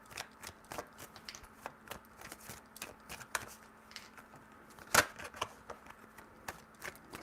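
Tarot cards are shuffled in a series of quick, crisp riffles and taps, with one sharper snap partway through, close and moderately quiet.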